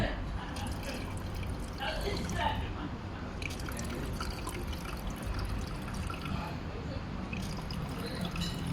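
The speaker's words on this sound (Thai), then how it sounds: "มาเติมน้ำว่ะเติมน้ำช่องด้านใน" Water is poured into the inner reservoir of an automatic ice maker, a continuous nearby trickle and splash with scattered drips throughout.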